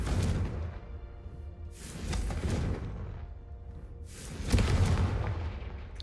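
A spell's explosions in the video game Hogwarts Legacy: three deep booming blasts with whooshing tails spaced about two seconds apart, close and heavy, the last one loudest.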